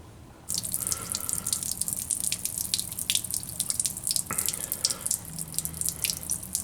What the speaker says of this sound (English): We're going to start by draining the fluid that's in there.